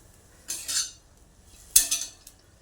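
Cooked gram-leaf vegetable served onto a plate with a spoon: two brief, close metallic scrapes and clinks of spoon against plate in a quiet room.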